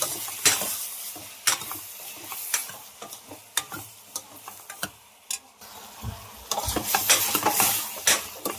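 Drumstick and tomato curry seasoned with turmeric, stirred in a pan: scraping stir strokes and clinks of a utensil against the pan recur over a steady sizzle, close and moderately loud, with no talking.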